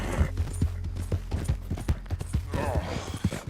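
Hooves clip-clop in a steady, fairly close rhythm as a horse walks in Red Dead Redemption 2, with low game ambience underneath and a voice speaking over part of it.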